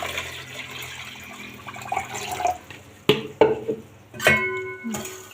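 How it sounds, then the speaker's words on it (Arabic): Water from a jug is poured into a pot holding sugar for syrup, giving a short close splash and trickle with a few clinks of the vessel and no talking. "وهننزل طبعا برتل ميه"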